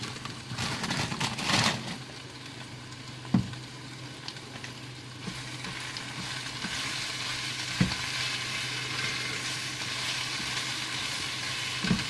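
Spinach leaves and minced garlic fry in a pan with a steady, close sizzle and crackle, broken by a few sharp stirring knocks and scrapes of the utensil, with no talking.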